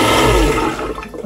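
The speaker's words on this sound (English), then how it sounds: "if I do a traditional flush, that does both emptying and adding water" Marine toilet in an Axopar 28 boat head system doing a full flush, a loud close rushing surge of water and pump that empties and refills the bowl before tapering off.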